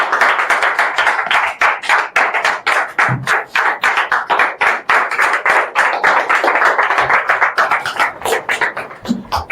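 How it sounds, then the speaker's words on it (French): Audience at a diploma ceremony for an event-decoration course claps in distinct rhythmic beats, loud and close, fairly regular throughout, with no speech over it. "Sous nos applaudissements"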